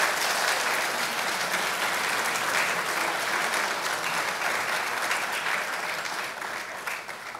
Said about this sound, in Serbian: A možemo aplauz podrške, pošto je priznanje prelepo.